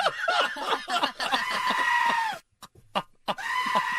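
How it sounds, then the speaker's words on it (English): A goat's loud, drawn-out scream, harsh and strained, repeated a few times with short breaks between, close and alone. "That's a goat."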